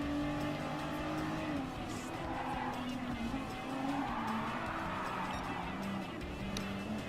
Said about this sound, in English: Drifting a four-wheel drive car at Brands Hatch